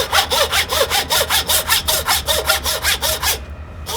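A hand saw cuts through beef rib bone on a center rib primal, its steady back-and-forth strokes rasping in a quick even rhythm for about three and a half seconds, close and loud, then stopping.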